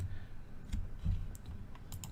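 Computer keyboard typing at a Linux command line: a few soft, scattered key clicks, fairly quiet and close, with no talking.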